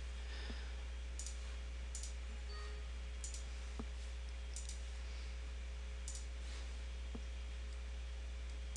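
Computer mouse clicks sound while saving files in Revit software, sharp isolated ticks coming every second or so over a quiet electrical hum and steady background hiss.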